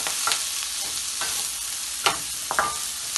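Garlic and onion sizzle and fry in about two tablespoons of oil as they are stirred, a steady hiss with a few sharper scraping strokes near the end.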